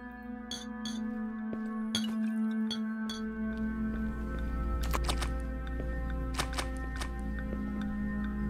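Glass clinks and taps repeatedly inside the video game Clap Clap, sharp bright strikes spread over a steady low hum, some in quick clusters, fairly close and clear with no talking.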